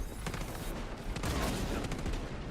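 Sniper gunfire in a video game shooter, loud and dense, with overlapping shots cracking in quick bursts over a constant battle din.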